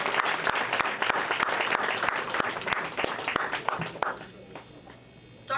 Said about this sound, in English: A round of applause, please, for Dr. Emile George.